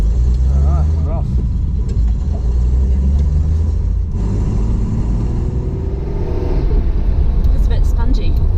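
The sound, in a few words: home built Datsun 240z driving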